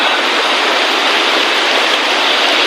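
A stream flowing beside a roadside, a loud, steady, close rushing of water with no pauses and no talk.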